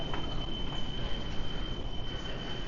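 Ambient rumble at a busy SkyTrain station in Vancouver, with a steady low train hum and a thin constant high whine over a continuous wash of noise, no distinct arrival or departure.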